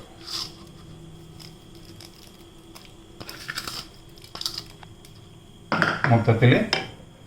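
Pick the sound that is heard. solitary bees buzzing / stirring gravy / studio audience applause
stirring gravy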